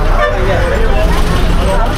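Bus horn toots at Hosur bus stand amid a loud, busy roadway wash of traffic and engines, with a voice speaking over the din.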